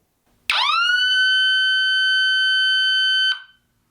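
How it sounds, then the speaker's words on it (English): A Parts Express 115 dB electronic alarm siren lets out one loud, sustained piercing tone lasting about three seconds after a sharp onset, then stops abruptly, with no talking. "that was us testing out the 115 decibel Siren available from partsexpress.com"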